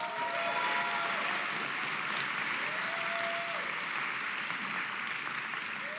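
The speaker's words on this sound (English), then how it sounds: "Give them a round of applause." An audience applauds guests at a crypto debate event in Taipei, a steady, even wash of many hands clapping at moderate distance with no talk over it.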